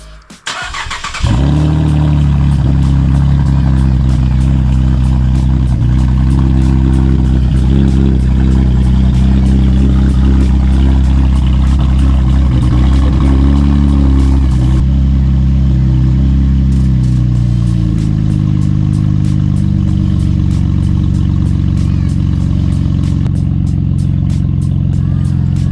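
A Chevrolet Camaro engine starts and then runs loud and close, with a rough, steady idle broken by short revs before it settles lower near the end.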